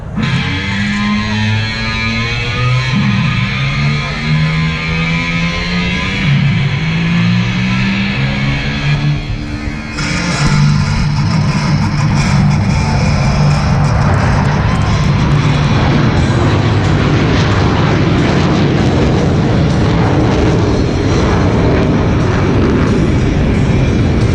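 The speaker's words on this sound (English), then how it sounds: "Burners ready now, and the Blue Angel Diamond is rolling." Blue Angels jets rolling for takeoff on afterburner, a loud, close roar of several engines with whining pitch sweeps that bursts into a broad, thundering blast midway and stays powerful throughout.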